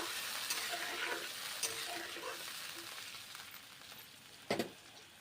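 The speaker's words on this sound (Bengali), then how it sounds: "মুগের ডাল রান্না করছি।" Mung dal cooking in a pan with water and turmeric gives off a quiet, continuous sizzle as it is stirred, with a few faint scrapes and a sharp double clink of the spoon near the end.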